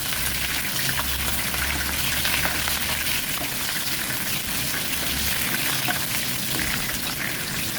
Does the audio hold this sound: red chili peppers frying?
yes